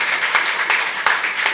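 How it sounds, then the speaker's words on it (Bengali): An audience at a traditional jatra theatre muhurat ceremony claps in a short, fairly loud burst, with individual hand claps audible through a dense wash of applause. "সকলে একটা হাততালি দিন"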